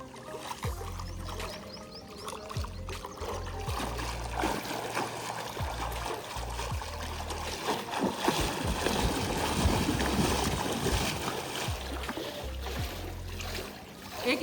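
Legs kick steadily in pool water during a beginner backstroke drill, making continuous close splashing and churning that swells and eases over several seconds.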